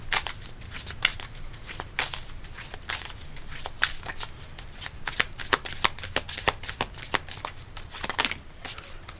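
Tarot cards being shuffled by hand for a love reading, a steady run of crisp riffling and slapping card strokes close up, with no talking.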